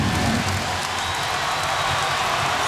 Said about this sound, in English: The big crowd is loving it.